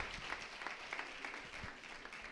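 A church congregation at a Sunday service applauds to welcome a visiting team, a dense, continuous patter of many hands clapping together, moderately loud and sustained throughout with a faint voice underneath.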